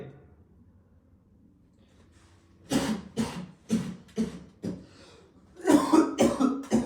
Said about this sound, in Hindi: अरे मेरे मुंह पे ही खांस ले